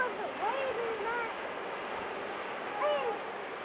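The Caddo River rushes after a rain storm, a steady broadband roar of fast water. People talk faintly over it, and a high whistling sound briefly rises and falls.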